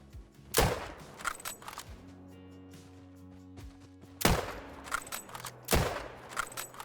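Rifle shots at a stag while hunting in Call of the Wild, three loud booming reports several seconds apart, each with a long rolling echo and quieter rustling between them.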